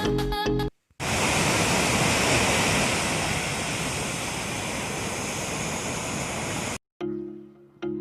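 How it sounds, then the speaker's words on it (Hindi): Waterfall at Maneri Dam roaring as a steady, loud broadband rush of falling water that fills the whole stretch between two brief cuts. "ये सामने है मनेरी डैम का वाटरफॉल। तो आप एक बार इसकी नेचुरल आवाज़ सुन लो"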